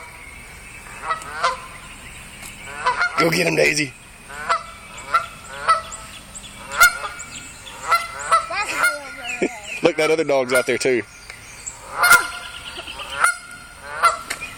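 Repeated loud honking from a flock of geese, in irregular bursts, with a person speaking at times among the calls.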